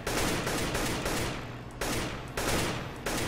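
Rapid rifle bursts in the video game CS:GO, several loud, close short volleys of automatic fire separated by brief pauses, with no talking.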